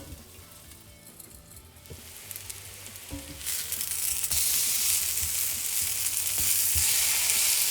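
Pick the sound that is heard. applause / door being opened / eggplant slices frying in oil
eggplant slices frying in oil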